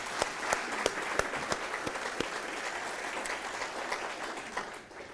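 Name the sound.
audience applause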